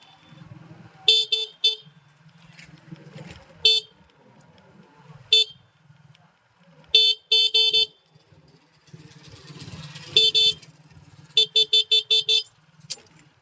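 A Honda Hornet 2.0 motorcycle rides through traffic on a neighbourhood street, its low engine drone running underneath. Sharp horn blasts cut through repeatedly in short bursts and rapid series of beeps.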